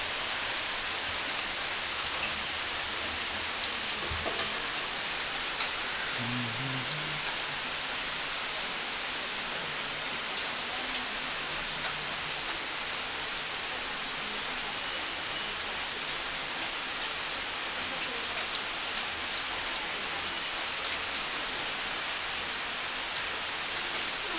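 Steady rain falls throughout, a dense even hiss of drops on surfaces with no voices, holding at a constant moderate level from start to finish.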